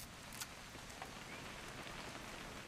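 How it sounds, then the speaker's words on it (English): Steady rain in the What Remains of Edith Finch video game, a faint, even hiss of drops falling on surfaces that continues with no break and no voices. "It's gonna rain the whole weekend, isn't it?"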